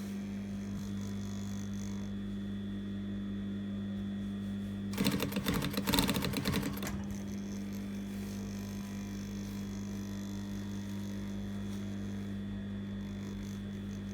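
Sewing machine back-stitching over a collar seam on a notched collar sample: a short, dense two-second burst of rapid needle clatter rising over a steady low motor hum, with no talking.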